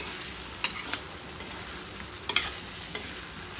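Soft sizzling of paneer frying in a pan, punctuated by a few sharp clicks and scrapes of stirring.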